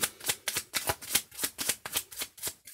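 Playing cards shuffled in rapid riffles, about a dozen crisp, evenly spaced bursts close to the mic, with no voice over them.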